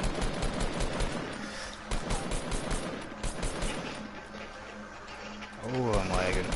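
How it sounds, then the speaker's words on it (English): Rapid bursts of SMG and shotgun fire in a Fortnite match crackle steadily throughout, dense and close, with a player talking over the shooting. "Well, I'm getting shot at!"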